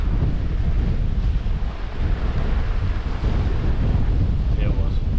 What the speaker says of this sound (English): that was the tide.